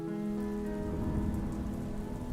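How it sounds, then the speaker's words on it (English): Steady rain falls on a surface at night, a dense, even patter with a low rumbling undertone and a faint hum, continuous and close with no voices, as an ambient audio drama effect. "It was a dark and rainy night."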